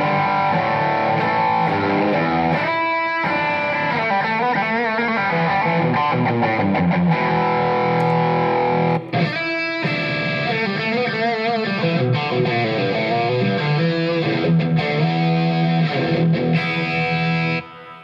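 Distorted electric guitar played through a Line 6 Powercab 212 Plus in speaker mode, loud and full with a thick, chorused tone, chords and riffs ringing steadily throughout without talk.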